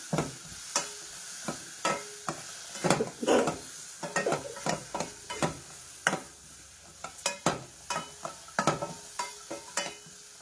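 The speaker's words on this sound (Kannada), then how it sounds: "ಹಾಗೆ ಸುಮ್ಮನೆ ಒಂದ್ಸಲ ಮಿಕ್ಸ್ ಮಾಡ್ಕೊಳ್ತಾ ಇದ್ದೀನಿ" A spoon stirs and scrapes a tempering in a pan in quick, irregular strokes, with a faint sizzle underneath and no talking.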